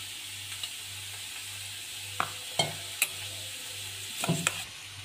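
Young jackfruit pieces frying in oil give a steady, low sizzle under a faint hum, with a few sharp clinks of a spatula stirring the pan and no talking.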